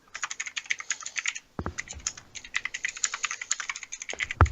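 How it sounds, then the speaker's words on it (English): Rapid, continuous typing on a computer keyboard, dense clattering keystrokes up close with a brief pause partway through. "I hear furious typing."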